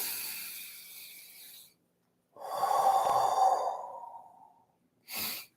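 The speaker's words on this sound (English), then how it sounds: "A big breath in." A slow, deep breath: a soft airy inhale fades out, then after a pause a fuller, louder breath swells and tails off, followed by a brief sharp exhale, close and intimate in a quiet room.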